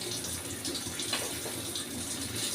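Pieces of Amudi fish are dropped into hot oil, giving a steady close hiss of frying that runs evenly throughout, with a brief brighter crackle near the middle and no voices.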